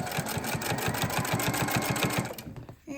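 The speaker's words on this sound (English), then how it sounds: "stitch down the middle" A sewing machine stitches down the middle of a folded fabric strip, its needle thumping in a fast, even rhythm close by for about two and a half seconds before stopping.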